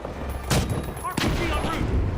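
A frag grenade bursts in The Finals video game, with a couple of sharp explosive cracks and rapid gunfire close by in a short, noisy stretch of combat.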